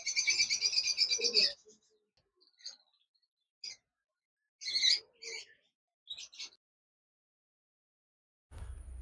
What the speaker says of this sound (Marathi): पक्ष्यांचे आवाज इकडे वरते ना बसल्यात मस्त आहे।